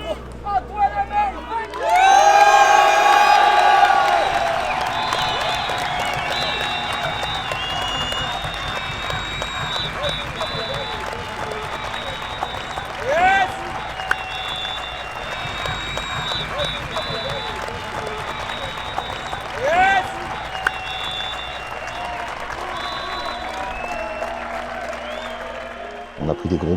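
Crowd at a drift competition cheering and applauding for a driver, a loud swell of clapping and shouts that rises sharply and then holds steady, with whistles and squeals scattered through the ongoing crowd noise.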